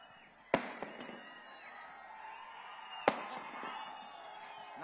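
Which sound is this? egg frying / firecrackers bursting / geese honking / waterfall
firecrackers bursting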